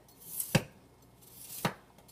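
A knife chops through broccoli on a board in a home kitchen, two distinct firm cuts about a second apart, close and crisp against near silence.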